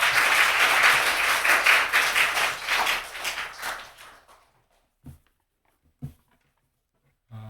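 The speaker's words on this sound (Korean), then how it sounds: "우리 힘찬 박수로 강사님 모시겠습니다." A church congregation at a Sunday evening service breaks into loud, sustained applause to welcome a guest pastor, fading out after about four seconds and leaving a few faint knocks and shuffles.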